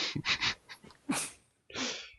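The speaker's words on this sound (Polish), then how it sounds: "Tak kichnąłeś" Sharp, breathy sneeze bursts, several quick puffs followed by a louder hissing blast, close and alone without talk.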